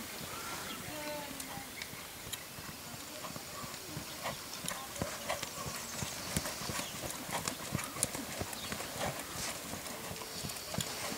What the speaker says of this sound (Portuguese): Japão do Volga, um puro sangue lusitano.